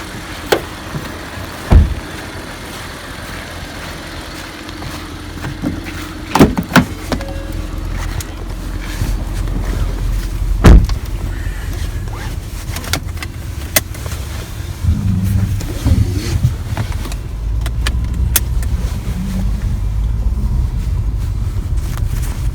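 A Ford Taurus SHO with a twin-turbo EcoBoost V6 and all-wheel drive heard from inside the cabin on a test drive, a low steady engine and road hum with wind noise and scattered clicks and bumps.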